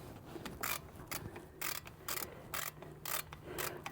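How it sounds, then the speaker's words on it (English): A socket wrench ratchet tightens a front brake bolt on a 2012 Ford Fusion, giving about seven close, sharp bursts of rapid clicking separated by short pauses. "now all we do is take our socket or our wrench and make it tight"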